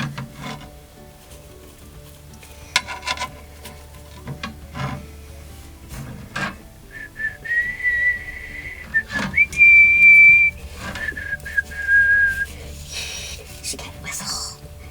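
A toy whistle is blown in a thin, steady tone in a few short bursts amid rustling and light handling noises, with quiet talk around it.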